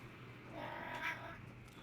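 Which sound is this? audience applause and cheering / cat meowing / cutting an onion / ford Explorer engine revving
cat meowing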